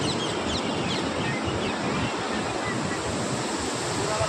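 A loud, continuous roar of water rushing out of Jurala Dam fills the scene, broad and steady like a torrent pouring out, with some wind buffeting.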